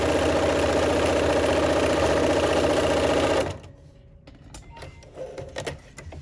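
Sewing machine stitching patchwork stocking pieces, a steady loud mechanical whir lasting about three seconds that stops abruptly, followed by quiet handling and fabric rustle.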